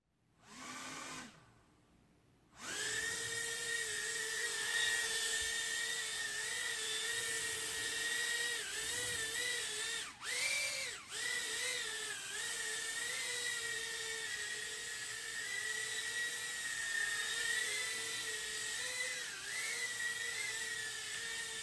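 Eachine E011 micro drone in flight, a steady high-pitched buzzing whine of tiny motors that shifts pitch as it maneuvers, loud and close after a brief short burst at the start, with no talk.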